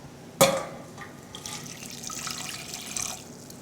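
Water poured from a container into a saucepan of dates, opening with a sharp clink, then a continuous splashing trickle that fills the pan, close and moderately loud, with no talking.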